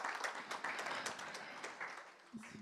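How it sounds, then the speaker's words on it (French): Scattered audience applause at a live shopping conference as two speakers join the stage, a moderate burst of clapping that thins toward the end with a brief voice. "On peut les applaudir."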